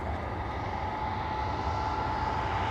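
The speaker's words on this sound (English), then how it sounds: "Listen to the sound of those engines." Powerful jet aircraft engines roar overhead in a steady, loud, broadband rumble with a thin whine on top, holding constant and unbroken throughout.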